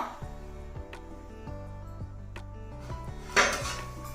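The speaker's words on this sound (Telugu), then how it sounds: "ఇప్పుడు మూత పెట్టి" Metal lid and utensils clink against a pot of fish stew (bommidala pulusu) on the stove, a series of sharp ringing knocks spaced through the moment, ending with a louder clatter as the lid settles.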